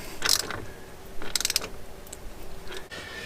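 A ratchet clicks in short bursts while bolts are tightened on Brembo brake calipers during an Alfa GTV restoration, faint and close with quiet gaps between.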